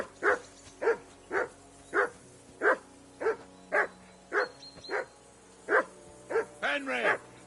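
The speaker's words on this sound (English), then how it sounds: "Henry, call that dog to heel." A dog barks repeatedly in Kingdom Come: Deliverance 2, a steady run of about eleven loud, close barks spaced under a second apart, ending in a rising whine or yelp.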